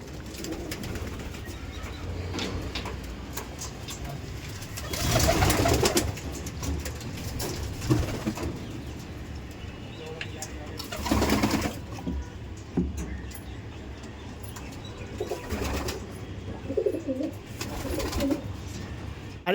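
Pigeons in a loft with several birds coo in low, continuous murmuring, moderately near, under a constant hum and rustle, with a couple of louder bursts of flapping or shuffling.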